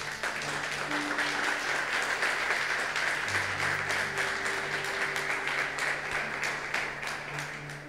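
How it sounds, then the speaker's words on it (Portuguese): Church congregation applauding during a sermon, loud continuous clapping that stays steady for several seconds with a sustained low musical tone and a few voices beneath, fading slightly at the end. "dê um forte aplauso ao Senhor."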